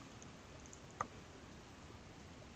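A single sharp mouse click on an Install button, crisp and close, standing alone against a quiet, steady room hum.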